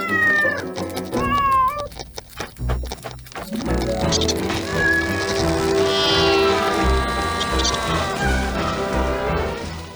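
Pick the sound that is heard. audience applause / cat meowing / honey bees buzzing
cat meowing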